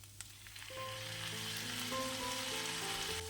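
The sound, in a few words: tomatoes sizzling as they fry with onions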